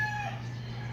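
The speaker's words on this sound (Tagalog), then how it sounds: "Tapos mga tinig ng mga ingay ng manok" Rural morning farmyard with chickens, a rooster crowing briefly over a steady low hum, fairly faint and distant.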